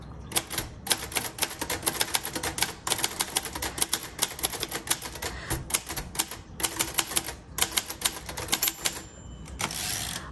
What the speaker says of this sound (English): So if you want to type 80, 90 words per minute, this is probably not your typewriter.